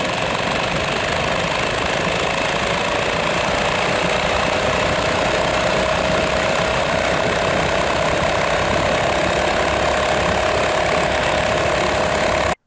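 A Dirt Bug mini bike engine runs loudly and steadily at close range, with a rough, buzzing drone and a faint rising whine, cutting off abruptly at the end.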